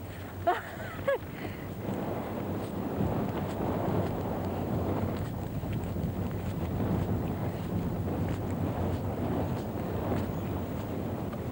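A small sailing boat heading out to fishing nets on the Bristol Channel coast, carrying sacking as a makeshift spinnaker, with steady rushing wind buffeting the microphone and water washing along the hull, a brief squeak near the start.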